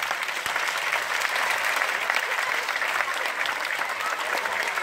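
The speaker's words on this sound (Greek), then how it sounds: "Αυτό θέλει χειροκρότημα." A theatre audience applauds at the finale of a regional theatre's stage production. Dense, even clapping fills the hall from start to finish, with no voices over it.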